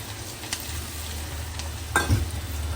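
Ginger dropped into hot oil for a tempering of asafoetida, curry leaves and chillies, for an aloo sev curry: a steady close hiss of frying with a brief louder crackle and stir near the end.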